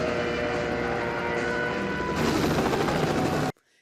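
A small helicopter in a James Bond video game, its rotor chop and engine roar loud and steady, growing denser and heavier midway before cutting off abruptly near the end.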